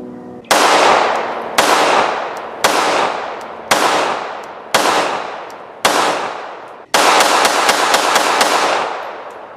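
Beretta Model 80X Cheetah pistol fired at a range, seven loud sharp gunshots in a steady rhythm, each ringing out and decaying, with the last few coming closer together.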